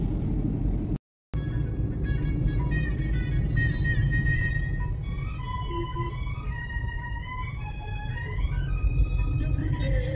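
A car drives along a road, heard from inside as a constant low rumble of engine and road noise, with a voice and some tonal sounds over it.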